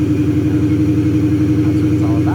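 A Porsche 928 race-build engine idles steadily with a low, even drone, loud and close, with no revving.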